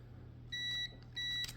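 Two steady electronic beeps from a Chrysler, Jeep or Dodge brake switch during a test, each lasting about a third of a second and separated by a short gap, heard over a low constant hum.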